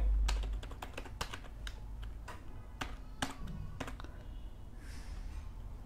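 Typing on a computer keyboard, with a quick run of close, crisp key taps and clicks that continues in an uneven rhythm before tapering off.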